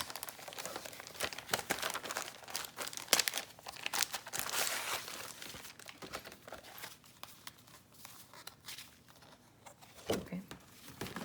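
Pre-cut Symmetrix die-cut scrapbook paper shapes being handled, with bursts of crinkling and rustling paper in irregular handfuls, close by and fairly loud.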